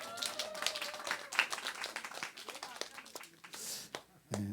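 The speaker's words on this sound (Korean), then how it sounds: "우리 권사님에게 박수 한번 해주세요." A church congregation claps together in a brief burst of scattered, rapid applause lasting a few seconds, moderately loud in a large room, thinning out toward the end.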